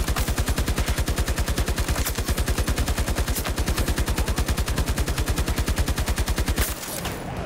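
An RPT-31 light machine gun in Battlefield 2042 fires one long, rapid, steady automatic burst, loud and close, running nearly seven seconds before stopping abruptly.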